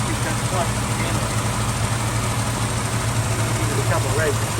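A Valiant Charger engine idles steadily during a restoration, giving a constant low, even rumble with no revving throughout.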